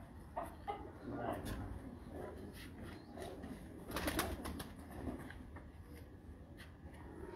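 On a rooftop pigeon loft, a pigeon's soft coos sit low and faint beneath people talking, with a few brief clicks and rustles.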